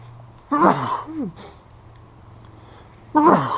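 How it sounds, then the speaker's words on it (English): A single loud, close sneeze bursts out, followed by a softer breathy sniff, then after a pause another forceful sneeze. "I'm going to sneeze here in a second too."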